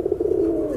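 A pigeon coos close by with a soft, low, continuous tremolo for under a second, alone and fairly quiet.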